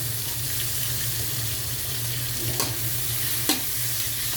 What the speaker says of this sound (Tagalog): So, gisahin lang po natin ang mabuti.